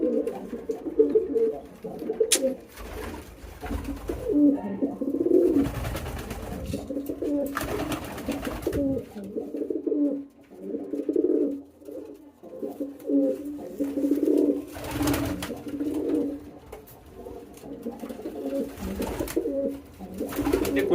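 Many pigeons cooing together on a pigeon farm, a dense, continuous chorus of low throaty coos close by, rising and falling without pause and with no talk over it.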